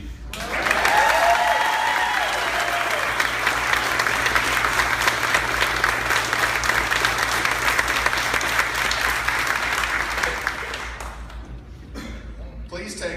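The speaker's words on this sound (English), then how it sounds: "Please take a moment and reward each of our final scholarship recipients a round of applause." Sustained applause from an audience honoring scholarship recipients, a loud, dense crowd clapping that holds steady for over ten seconds before tapering off.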